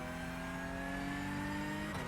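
A race car engine on a road course with chicanes, held at a steady high-revving drone with strong harmonics that shifts abruptly near the end as the driver pushes up through the gears, loud and close with no talking.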